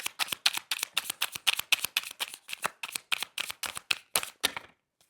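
A deck of tarot cards shuffled over and over in quick, crisp riffling bursts that repeat steadily for several seconds and then stop. The cards are close and clear, with no voices.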